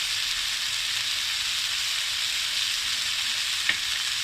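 Egg puff filling of ground pepper, coriander and salt stirred and sizzling in a hot pan, a steady close frying hiss throughout with one brief scrape of the spoon near the end.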